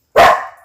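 A single loud, close dog bark, sharp at onset and trailing off quickly, heard alone in a home kitchen.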